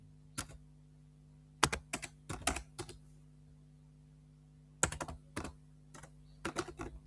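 Bursts of close computer-keyboard typing, a page title being entered, arrive in two or three quick clusters of crisp key clicks separated by quiet pauses over a low steady hum.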